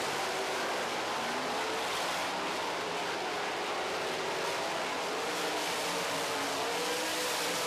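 Sprint race cars, including the 54 and the 83, running side by side on an oval track, engines roaring in a dense, continuous drone with a slowly shifting pitch and no talk over it.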